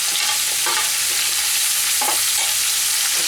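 Ridge gourd, eggplant and drumstick stems fry in a hot pan with steady sizzling, while a spatula stirs and scrapes through the vegetables in a few distinct strokes, close and alone without voices.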